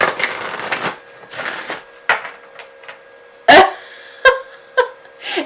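Tarot cards being shuffled during a live card-pull session, with riffling bursts at the start followed by sharp separate card snaps and taps, close and fairly loud.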